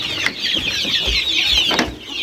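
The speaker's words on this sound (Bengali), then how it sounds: "দেখেন দেশি মুরগি এখানে" Native desi chickens clucking close by on a farm also holding broiler chickens and quail, with repeated short calls from several birds over a steady bright background of farmyard noise.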